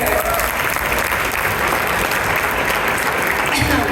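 An audience at an interfaith iftar gathering gives a big round of applause, a dense, steady wash of clapping that stays even and full from start to finish.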